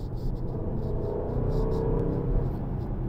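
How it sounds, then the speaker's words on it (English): An Aston Martin DB12 Volante convertible accelerates, its exhaust giving a deep, steady engine rumble heard from inside the car that swells slightly toward the end without fully roaring. "it only gets loud when you absolutely uncork all the power"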